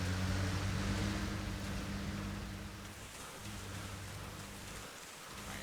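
Rain falls steadily in the video game Arma Reforger, a dense even hiss of drops over a low continuous rumble, with no voices.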